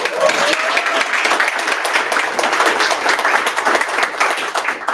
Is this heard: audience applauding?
yes